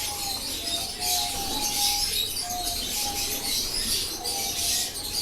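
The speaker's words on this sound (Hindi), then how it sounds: "बिल्कुल ओरिजिनल रामपुरी कबूतर है।" Rampuri pigeons coo nearby, with repeated soft, thin calls rising in short phrases over a steady background hiss and faint chirps.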